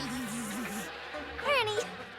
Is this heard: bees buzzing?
yes